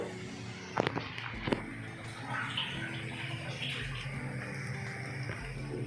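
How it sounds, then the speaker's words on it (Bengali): Water is poured into a pan of cooking elephant foot yam, a splashing hiss with a few sharp clatters early on and a continuous bubbling wash after, fairly quiet with a faint voice in the background. "অল্প জল দেবো, বেশি জল দেবো না।"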